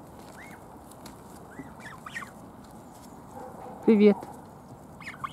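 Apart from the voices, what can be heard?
geese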